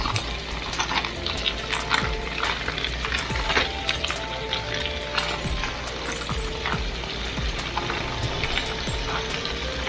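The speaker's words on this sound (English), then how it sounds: "We're back in the kitchen and we're browning some beef stew" Floured beef stew cubes browning in an Instant Pot, a steady close sizzle and crackle of frying meat with occasional clinks and stirring scrapes throughout.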